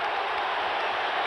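A basketball arena crowd at the NBA Finals between the Pistons and Lakers roars in a dense, sustained wall of cheering, loud and unbroken.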